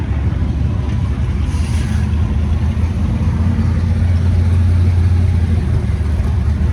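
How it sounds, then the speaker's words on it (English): A 427 Ford Fairlane engine running at the Goodguys Hot Rod show 2023 in Columbus, Ohio, a loud, continuous low rumble that holds steady throughout, with faint crowd ambience around it. "Boy, you can hear that 427 Fairlane from up here."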